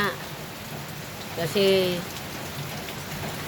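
Rain falls steadily on surfaces beside rice paddies after a long dry spell, a constant soft hiss throughout, with a brief bird call and someone speaking a word partway through.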